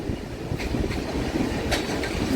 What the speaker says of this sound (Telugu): అటుపక్క రెండు ట్రైన్లు ఒకేసారి వెళ్తున్నాయి ఇటుపక్క రెండు ట్రైన్లు ఒకేసారి వస్తున్నాయి